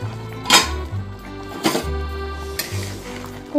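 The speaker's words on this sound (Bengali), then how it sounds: "5 মিনিট হয়ে গেছে, ঢাকা খুলে দিচ্ছি।" A lid comes off a cooking pot of pumpkin and potato with a couple of sharp metallic clanks, close and fairly loud, over a soft simmer between the knocks.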